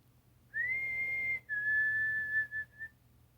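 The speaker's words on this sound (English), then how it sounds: "In the distance, I hear the whistle again" Faint, distant whistling in a dark, eerie setting: a single long sustained note followed by a slightly lower held tone that wavers and fades, alone over a low background hum.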